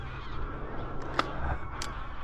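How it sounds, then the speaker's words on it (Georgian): Greylag geese honk during a goose hunt, a couple of short nasal calls spaced apart, fairly distant over low outdoor rumble. "რუხი ბატები არიან ორივე, კაი დიდი რუხი ბატები და კაი მოზრდილები თანაც."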